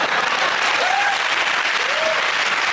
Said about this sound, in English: give that round of applause for Chris, Hugh and Milton